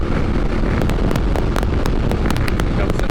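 Steady wind roars against the microphone on a motorcycle trip, a loud constant rumble with brief crackling buffets throughout.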